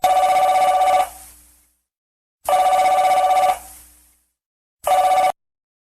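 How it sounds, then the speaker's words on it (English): A telephone rings in three loud electronic bursts, two long and one short, separated by silence. "hears the phone ringing and picks it up"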